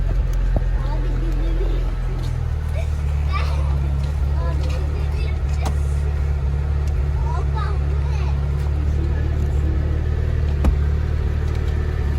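A Tofaş car engine hums low and steady while cruising, with excited voices chattering over the rumble inside the cabin throughout.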